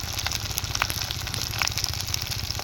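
A spice masala of coriander, cumin, green chilli and turmeric fries in hot oil in a pan, giving a steady close sizzle with small pops and crackles and no talk over it.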